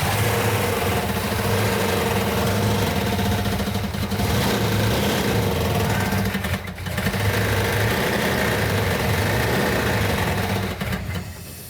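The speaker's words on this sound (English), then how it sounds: "The engine is making a metallic knocking sound." A 1970 Plymouth 'Cuda with a 340 V8 idles close by, its steady low rumble carrying a persistent metallic knock, loud and continuous with a slight dip partway through.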